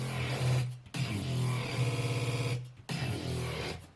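Synth bass preset from a bass design session: gritty, buzzy bass notes in several bursts separated by short gaps, one with a rapid rhythmic stutter, played alone.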